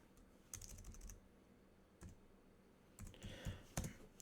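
Typing on a French-layout computer keyboard, with scattered clusters of close, crisp key clicks separated by short pauses.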